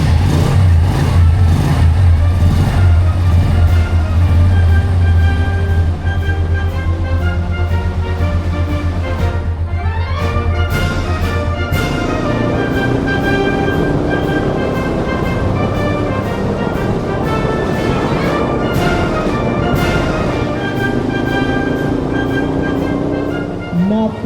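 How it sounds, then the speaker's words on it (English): A car engine starts up and runs after an oil change, settling into a steady idle hum with rising revs, heard up close alongside a person speaking and some background noise. "then it's time to start the engine and give her a run."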